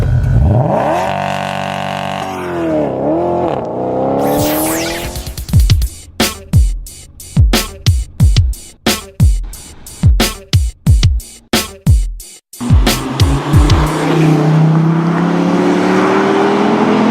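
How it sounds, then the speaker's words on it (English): A brand-new 2013 SRT Viper on a Northern California racetrack revs hard and accelerates loud and close, then a fast run of sharp pass-bys and engine surges, ending in a sustained roar. "6 brand new Vipers about to go on the racetrack here in Northern California"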